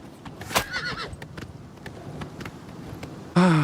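A horse in the video game Oblivion Remastered gives a short whinny near the start, followed by a soft, steady clip-clop of hooves and then a louder burst of game sound at the end.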